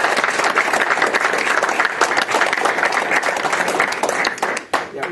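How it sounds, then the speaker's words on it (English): A room at a school board meeting breaks into dense, sustained applause for students, many hands clapping together before it thins out and tapers off at the end. "you guys really, really deserve a round of applause"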